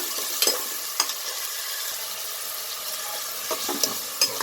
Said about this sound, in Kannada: ಸ್ವಲ್ಪ ಫ್ರೈ ಮಾಡ್ತಾ ಇದ್ದೀನಿ.